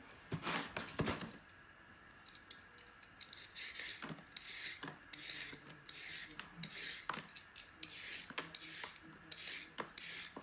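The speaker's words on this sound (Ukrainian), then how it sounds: "Так, чистимо моркву" Carrots being peeled by hand in a home kitchen, producing soft, irregular scraping strokes with occasional light clicks of the peeler, close and quiet, with no talking.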